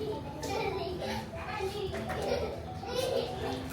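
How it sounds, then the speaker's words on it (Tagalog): A baby plays happily at home, making cheerful babbling sounds that come and go among a steady background of household noise and adult voices. "Narinig yung si baby, ang happy. Naglalaro."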